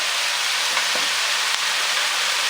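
Cooked quinoa tipped into a hot, sizzling pan for a marrow stuffing; a steady close hiss of frying fills the clip, with a couple of soft thumps as the grains land.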